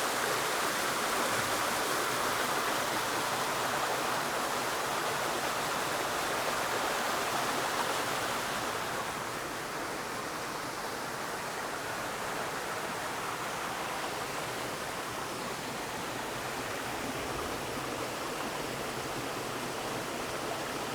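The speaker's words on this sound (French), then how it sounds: "je vais vous laisser avec le bruit de la cascade." Steady rushing of a small waterfall in a green space in the city on a rainy day, a continuous broadband wash of falling water heard alone, slightly softer after the first few seconds.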